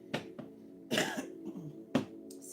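A person with a lingering cough coughs several times, with short sharp coughs and a throaty rasp, close and fairly quiet, with no talking.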